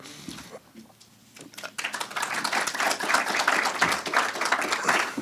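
An audience at a talk breaks into clapping that starts sparse, swells into a dense, sustained round of applause and keeps going steadily to the end.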